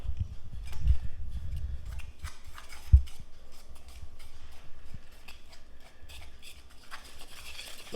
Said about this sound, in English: So just whisk it all together until it's smooth.